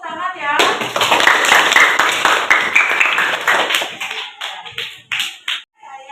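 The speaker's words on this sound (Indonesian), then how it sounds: "beri tepuk tangan ya" A classroom of students clapping their hands together in a burst of rapid, dense claps that fade and break up toward the end, with some children's voices mixed in.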